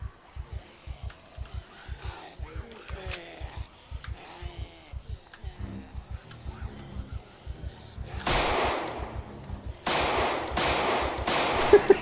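Gunfire in the zombie survival video game Project Zomboid, with rapid bursts of shots in a fast regular rhythm, then louder, harsher blasts toward the end, heard alone without talk.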